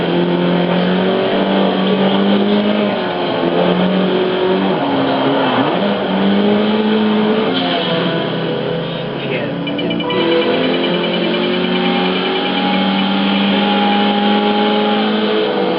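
A Mazda RX-7 race car in Forza Motorsport 4 drones loud and steady through the whole stretch, its engine pitch rising and dipping with shifts and throttle changes.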